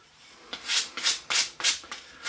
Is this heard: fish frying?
no